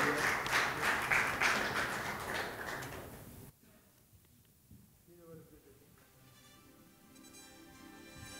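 An award ceremony audience at an inauguration event claps in a broad steady burst for about three seconds, then stops abruptly, leaving quiet room sound and a voice starting to speak.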